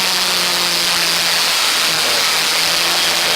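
A historic Formula Ford race car at Donington Park roars loudly and steadily close by, its engine a sustained, dense buzzing whine with no pauses.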